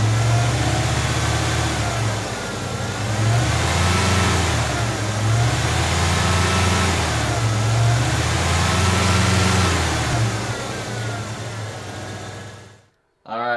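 A 1980-1996 Ford Bronco truck engine, warmed up, rises and falls in several slow revs as the throttle is goosed, loud and close, with a voice talking over it before it cuts off at the end.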